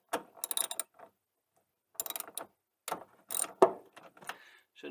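A ratchet wrench turns a 10 mm socket on a fastener, likely pot metal, while installing sequential LED rear turn indicators on an ND car: several short bursts of rapid clicking separated by pauses, close and fairly quiet.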